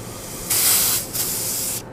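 Nitrogen gas hisses into the lines of an antique Frigidaire W-5 refrigerator's compressor during leak testing, coming as two close, loud bursts of airy hiss with a short dip between them.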